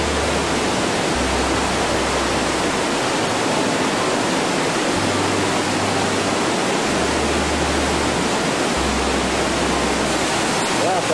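Water rushes loudly through the narrow Liechtensteinklamm gorge near St. Johann im Pongau in Salzburg, a constant roaring wash close by that stays even and unbroken throughout, with a low rumble beneath it and no voices.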